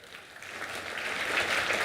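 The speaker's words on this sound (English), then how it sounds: "Can everyone give a clap for ISRO?" A crowd claps together in a steady wash of applause that swells slightly louder as it goes on, with no voices over it.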